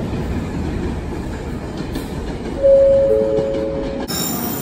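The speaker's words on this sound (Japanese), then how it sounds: "今ソニック号が、出発していきました。" A JR Kyushu Sonic limited express train pulls out of Hakata Station in Fukuoka with a loud, continuous rumble of rolling wheels. A brief tonal horn or squeal rises midway, followed by a sharp clatter near the end.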